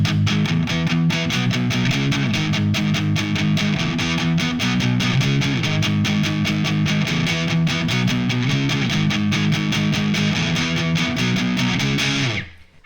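Loud distorted electric guitar power chords from a punk song, played with steady palm-muted downstrokes that chug in a driving rhythm throughout, shifting between chord shapes and cutting off abruptly at the end.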